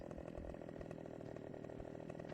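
Chainsaw cutting through a tree in the farming game Farming Simulator 2015, a steady continuous engine drone with a rough buzzing texture running unbroken through the moment, loud and close with no talk over it.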